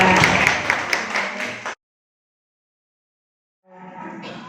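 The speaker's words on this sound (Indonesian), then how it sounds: "Tepuk tangan ya." A room of teachers at a school training session claps for under two seconds, a dense crackle of hands that cuts off to silence, then softer noise returns near the end.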